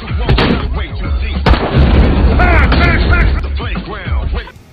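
Gunfire and booming blasts from an armed attack on a tavern in the 2022 action film Renegades, loud and dense with sharp cracks throughout, mixed with shouting and other chaotic film sound.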